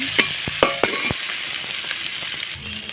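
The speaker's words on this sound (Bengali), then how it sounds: "দেখো মশলাটা ভালোভাবে কষিয়ে নিচ্ছি আর সাইড দিয়ে তেল খাচ্ছে" Spice paste for potol (pointed gourd) curry fries in a small amount of oil with a steady close sizzle, broken by a few sharp metallic clinks of a spatula stirring against the pan early on.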